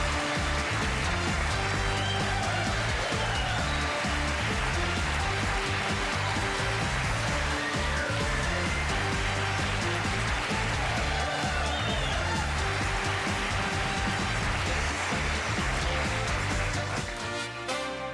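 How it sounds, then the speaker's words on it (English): A large studio audience applauds and cheers on a late-night talk show, a sustained roar of clapping that holds steady and loud throughout before fading at the very end. "I'm humbled by that applause."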